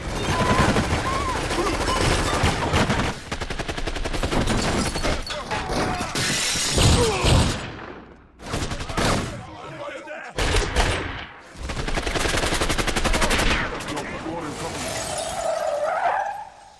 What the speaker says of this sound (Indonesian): Ketika baku tembak sudah berhenti